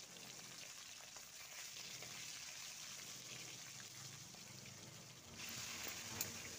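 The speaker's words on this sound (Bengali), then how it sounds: "এইবার কড়াইতে রুই মাছগুলো ভেজে নেব।" Rohu fish pieces rubbed with salt and turmeric fry in oil in a wok, giving a steady, close, even sizzle throughout that swells a little louder near the end, with no talking.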